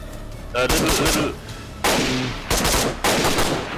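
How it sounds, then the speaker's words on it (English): Several sharp, loud gunshot bursts from the video game DayZ ring out in quick succession, with a brief spoken word between them. "Oh, shot from the woods?"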